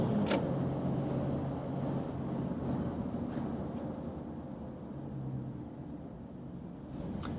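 A Mercedes Sprinter van cruises on a motorway in traffic, its cabin hum low and steady with soft road rumble and a few brief passing swells.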